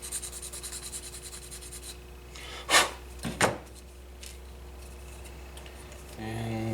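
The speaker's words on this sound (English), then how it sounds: "Cut this off, give it a quick filing." A cut part from a model warehouse kit is filed in a few short, scratchy rasping strokes, close and quiet, after soft handling noises.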